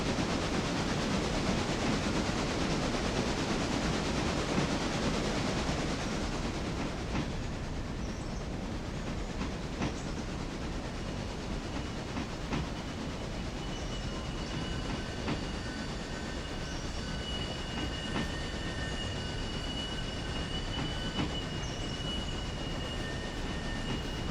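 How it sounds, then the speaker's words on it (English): A train rolls along rails in the railroad simulation game Railroader, producing a continuous loud rumble and wheel noise. After a few seconds it eases to a lower roar, with steady squealing tones and occasional clicks. "I don't think I want the train to go much over 20 in that Y."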